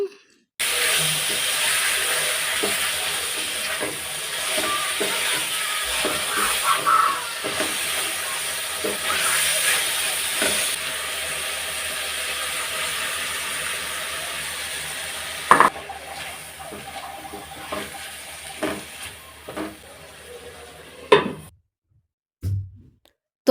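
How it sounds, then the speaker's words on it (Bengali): Fish frying in a pan of cooked-down spice masala, a steady loud sizzle and hiss with occasional stirring scrapes and clicks, then a few clatters and silence at the end. "তো মশলাটা কষিয়ে তারপর এখানে আমি মাছগুলো দিয়ে দিলাম"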